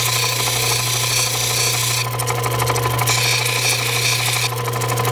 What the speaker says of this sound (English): to move your stone back and forth so you don't ruin your diamond wheel